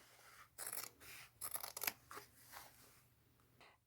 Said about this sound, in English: I'm going to cut just below that seam